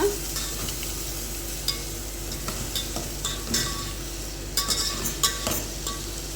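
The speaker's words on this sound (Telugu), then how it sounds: "ఇప్పుడైతే నేను పచ్చిమిర్చి అలాగే ఆనియన్స్ అయితే వేసేసాను అనమాట. ఇదైతే బాగా కలర్ వచ్చేలాగా వేపుకోవాలన్నమాట" Green chillies and onions fry in oil for a chicken curry, giving an even sizzle close by. A spoon stirs and clinks against the pan now and then, and no voices are heard.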